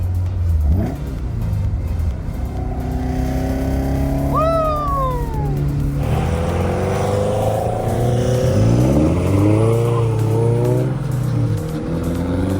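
A Toyota AE86 Hachiroku driving on a road in Texas, engine revving and rising in pitch through several gear pulls, with a steady rumble underneath and faint voices in the cabin.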